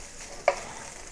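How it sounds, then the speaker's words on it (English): Washed chives sizzle softly as they are stir-fried in a pan for a Cantonese egg dish, a low hiss with one brief sharp clink of the utensil midway. "it would taste better if you stir fry the chive first before you add it to the egg"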